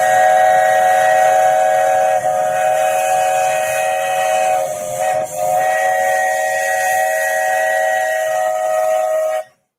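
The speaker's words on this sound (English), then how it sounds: "when the train's at the station and you can hear how loud the whistle is" A park train's steam whistle blows at the station in one long, loud, steady blast that runs for nearly ten seconds before cutting off sharply.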